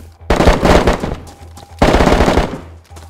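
Two loud bursts of automatic gunfire in DayZ, each lasting about a second and a half with a short pause between them, close and sharp, without talk over them.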